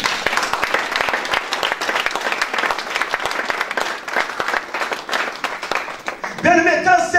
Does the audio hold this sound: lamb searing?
no